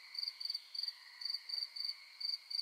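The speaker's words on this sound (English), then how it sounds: "Enjoy the sounds of nighttime, the crickets, the tree frogs, and the thunder." Crickets chirp at night in regular pulsed bursts, about eight evenly spaced trills, steady and fairly faint in a quiet outdoor setting with a distant storm.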